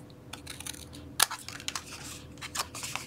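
Cutting through cardboard box flaps gives a close series of scratchy snips and tearing crunches, irregular and fairly quiet, with a few sharper cuts standing out; no speech.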